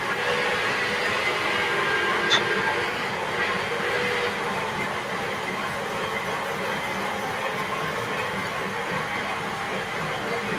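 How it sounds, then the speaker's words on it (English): A model train runs on a home layout, a steady rolling rush of wheels on track with a brief faint squeal, continuous and fairly close throughout. "We're just watching Sid run his trains."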